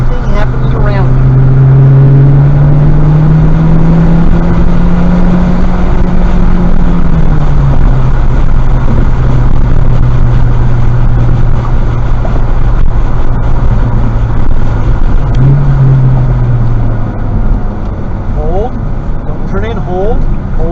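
A Honda Civic Type R engine drones and rises in pitch as the car accelerates on a track day, loud and continuous inside the cabin, with a voice talking over it.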